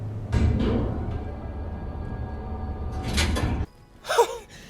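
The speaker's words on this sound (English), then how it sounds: "Doors closing." Elevator doors closing in the video game Final Fantasy 7 Remake, a sliding rumble that builds and ends in a sharp stop, followed by a brief gasp-like sound.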